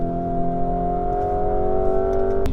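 A Lamborghini Urus SUV engine revving hard and steadily with rising tone as it works through gear shifts on a fast drive, loud and close, with no talking.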